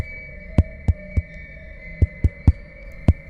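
A heartbeat pounds in deep, loud thumps that come in uneven clusters over a low steady hum, with no voices.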